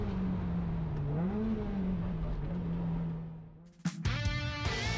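Tuned cars in a time attack session at Central Circuit: a steady engine drone holds with one rising and falling pitch swell, then a sharp transient near the end gives way to a harsher, louder rev from a nearby car.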